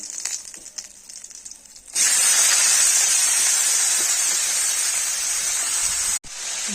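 Gime shak leafy greens drop into a kadai of hot oil tempered with nigella seeds and green chilies, bursting into a loud, steady, close sizzle that holds for several seconds before briefly cutting out.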